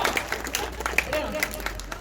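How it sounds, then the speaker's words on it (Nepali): Scattered applause from a school audience, uneven claps rising under a steady low hum, with a voice talking over it. "जोरदार ताली बजाएर साथ दिनु होला"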